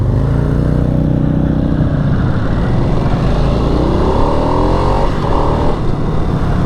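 A 2022 Harley-Davidson Sportster Nightster motorcycle ridden through city streets, its engine droning steadily and loud throughout, with a rising rev partway through.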